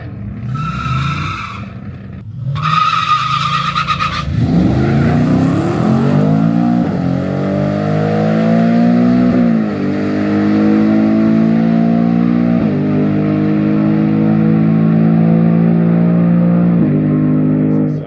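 Race cars at a Wednesday night race, including a Mustang, rev loudly with rising and falling engine tones and gear changes, opening with two short squealing bursts before a sustained, close engine drone.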